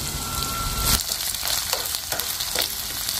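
Green chilies and ginger hit hot oil in a pan while a spicy curry is cooked, setting off a loud, continuous sizzle with stirring scrapes, close and with no voices.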